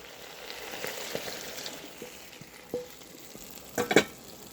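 Rabbit civet being stirred in a pan after red wine and cornstarch are added, a soft bubbling sizzle with scraping stirs and a few sharper clinks near the end.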